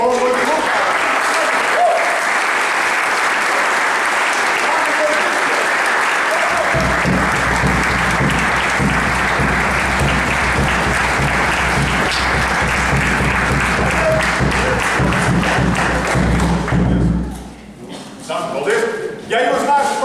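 An audience applauds steadily and loudly at a Latvian folklore group's performance, sustained dense clapping with a low rumble beneath that fades near the end as a voice begins speaking.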